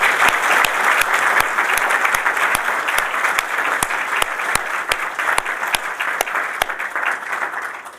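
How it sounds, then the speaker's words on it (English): A room applauds state legislators at a medical school press event, steady dense clapping with a few sharp, distinct claps standing out near the microphone, lasting several seconds without talk. "I think we need to give a round of applause to our legislators"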